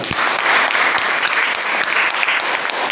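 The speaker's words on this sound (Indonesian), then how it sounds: "Tepuk tangan." Loud, close applause from a classroom of students during a school teaching session, a brief, dense burst of clapping with a few sharp individual claps standing out, heard alone without talk.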